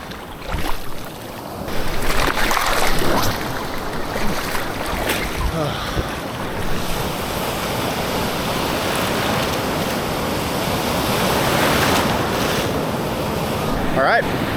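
Ocean surf on a sandy beach used for surfing rumbles and washes in a continuous broad roar, with gusts of wind buffeting the microphone.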